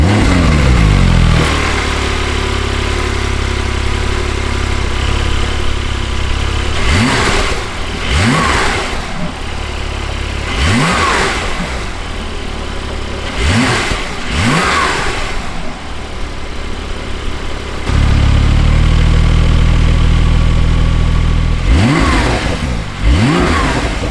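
A Porsche 911 992 Turbo S engine idles, then revs repeatedly in short sharp bursts, its exhaust rising and falling loudly and close by, settling back to a steady idle between revs.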